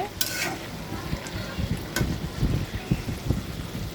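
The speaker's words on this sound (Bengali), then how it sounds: "এটা ভালো করে আবার নাড়াচাড়া করব।" A spoon stirs small sea fish cooked with vegetable stems and green chilies in a pan, making scraping and shuffling sounds with a soft sizzle underneath, close and uneven, with a couple of sharper clinks early on.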